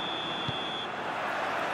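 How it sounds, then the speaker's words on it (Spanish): A referee's kick-off whistle in the football video game PES 2022 sounds as a single steady high tone lasting under a second, over a constant crowd roar from the stadium. "Pitido inicial y el partido está en marcha."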